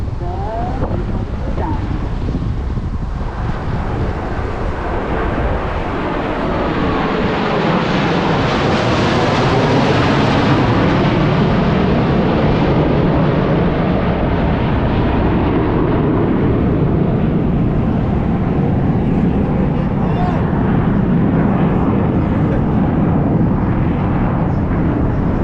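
Blue Angels jets in tight four-plane formation flying past at an air show in Fort Lauderdale, a loud, sustained broadband roar lasting throughout, thick with wind buffeting.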